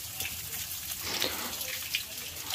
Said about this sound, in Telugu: చెట్టు వేరు కింది నుంచి వాటర్ ఇట్లా ట్యాప్ వాటర్ లాగా వస్తున్నాయి